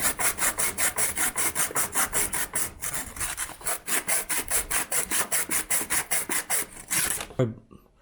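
Sandpaper, around 320 grit, rubbed back and forth over the drive shaft of a Troy-Bilt 645A tiller to clean it before an oil seal is replaced. About thirty steady, close rasping strokes run at an even rhythm, then stop abruptly.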